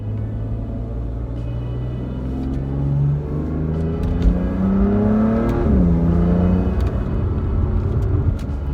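A BMW M3 with downpipes and the stock muffler idles and revs, a deep rumbling exhaust rising steadily in pitch as it accelerates, with light crackles and gurgles.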